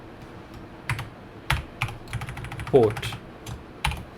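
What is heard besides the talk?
computer keyboard typing code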